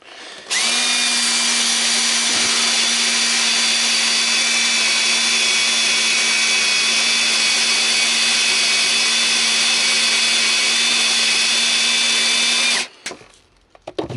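Sandblasting of the bare steel car body of a Jaguar XJ X300 during restoration: a loud, continuous, steady hiss and roar running for about twelve seconds without a break, then cutting off abruptly, with no talking.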